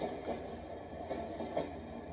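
A white noise machine plays a soothing recorded train, a soft continuous rumble of rolling rail cars with faint rhythmic clatter, low and even throughout.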